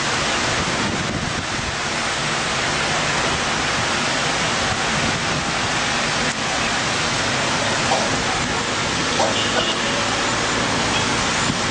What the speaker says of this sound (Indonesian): pada hujan kali ini dapat disyukuri oleh warga di sekitar kota Mekah